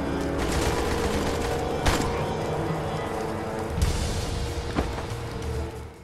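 Gunfire in Blues and Bullets, a gangster-era shooter, sounds as a steady fusillade of sharp shots with a few louder cracks over a rumbling game-action background, with no talk.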